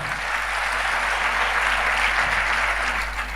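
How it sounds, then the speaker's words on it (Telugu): A church congregation applauding together, a dense sustained wash of clapping at steady volume throughout, with no voices over it. "చప్పట్లు కొట్టి దేవుని మహిమపరుద్దాం"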